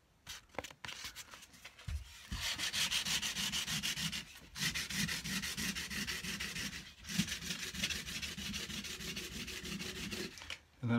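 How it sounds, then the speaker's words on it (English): A guitar's fret ends are sanded with 320 grit sandpaper on a handmade cigar box guitar. The close, steady rubbing runs in quick back-and-forth strokes, pausing briefly a few times. "after you file them smooth, I get 320 grit sandpaper."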